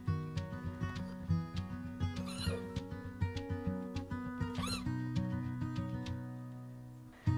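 A couple of short, high squeals rise over steady background music, the second one clearer and closer than the first.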